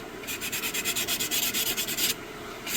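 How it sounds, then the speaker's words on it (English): Fire agate stone rubbed by hand on 150-grit wet/dry sandpaper, a close, steady series of rhythmic scratchy back-and-forth strokes, about a dozen quick passes, then a stop. "one of my favorite tricks with finishing a stone is some plain old wet dry sandpaper"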